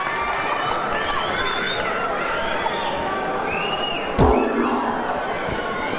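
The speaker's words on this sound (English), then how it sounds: "hark at that crowd. It's electric, isn't it?" Arena crowd at a darts match, a loud continuous roar of voices and cheering throughout, with a sharp thud near the end.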